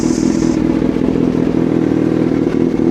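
A Yamaha Nmax 155 scooter with an open muffler idles close by, a loud, steady, low-pitched rumble with a slight clatter that holds even for the whole clip, with no talking.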